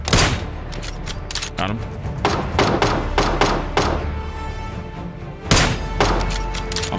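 Rapid bursts of gunfire in the video game PUBG, with repeated sharp shots and thuds in quick clusters, loud and close, while a player talks briefly over them.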